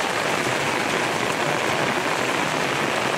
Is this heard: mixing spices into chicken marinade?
no